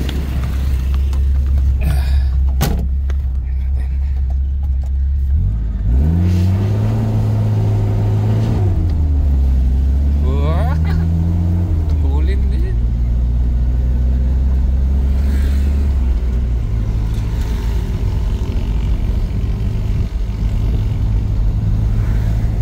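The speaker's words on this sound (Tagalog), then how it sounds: "Tahimik makina oh." A quiet car engine idles and runs steadily while driving, with a low droning hum that rises and shifts in pitch as the vehicle moves, loud and close throughout with no talk.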